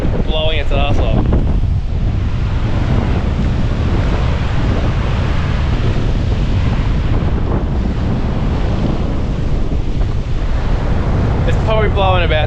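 Strong wind of about 25 to 30 knots buffets the microphone at a beach in a constant heavy rumble, with surf noise underneath and brief bursts of voices near the start and end.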